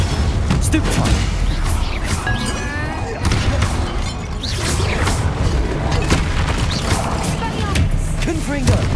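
Rapid spell blasts and booming impacts from combat in Hogwarts Legacy, with repeated crashes and shattering bursts stacked loudly over nine seconds, under a constant busy wash of game battle noise.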